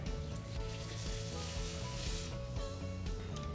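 Two and a half cups of boiling water pour straight over rice and three bouillon cubes, making a steady close-up hiss and bubbling sizzle with no talking.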